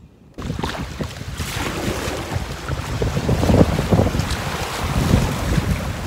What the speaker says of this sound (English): The wind's blowing me everywhere, man, because of this. It's just blowing all over the place